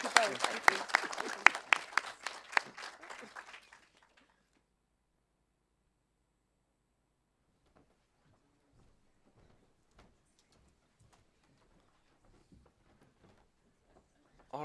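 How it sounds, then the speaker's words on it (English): A burst of audience applause after a panel talk at a tech event, dense clapping for about four seconds that cuts off abruptly, followed by near silence with faint scattered shuffles and distant voices. "Let's give them a round of applause for such an amazing prototype band talk"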